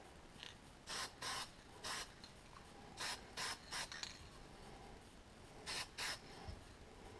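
Short hissing bursts of Rust-Oleum satin American red spray paint from an aerosol can, applied to parts of a covered wooden barge model kit, come in groups of two or three quick sprays separated by pauses, fairly close and moderately loud.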